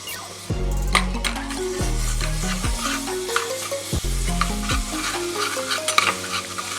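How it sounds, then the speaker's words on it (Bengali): Butter sizzles in a pan with dried red chillies and garlic, frying steadily and loudly while a spoon stirs and scrapes now and then, over soft background music. "ভালো করে আমি ভেজে নেব।"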